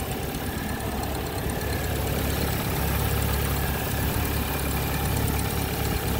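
A 2008 Suzuki Forenza with a 1.6-liter engine idles just after startup, a steady, even hum that holds at a constant level close by for the whole stretch.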